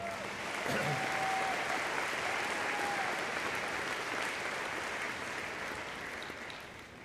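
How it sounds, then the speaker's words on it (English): Sustained audience applause fills a 2019 graduation ceremony hall, a dense wash of clapping that swells quickly and holds steady for several seconds before slowly tapering. "So one more applause for Joe McDonald."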